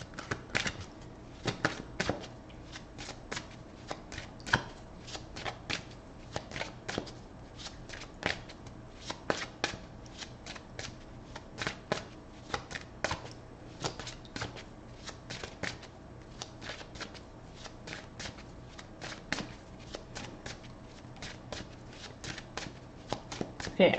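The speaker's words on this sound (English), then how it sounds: "I'm going to cut it because we don't have a lot of popping cards" Close, steady riffle shuffling of a tarot deck, cards fluttering and snapping in rapid repeated bursts throughout, with soft handling sounds between shuffles and no voice.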